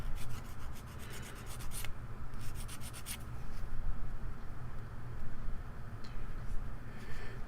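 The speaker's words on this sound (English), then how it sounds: "sand down all the nubs on the edge where you just cut off" Rough, steady rasping of sandpaper on a small plastic model kit part, knocking off leftover nubs along a cut edge, with close scratchy strokes and a few quick brushing bursts.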